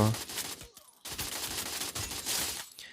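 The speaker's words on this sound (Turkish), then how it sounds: "Çok alakasız yerden bir arkadaş sıkıyor" Rapid bursts of gunfire from an enemy player in the mobile battle game Free Fire, dense overlapping shots in two main volleys separated by a short gap, loud and sharp with a clattering automatic rhythm.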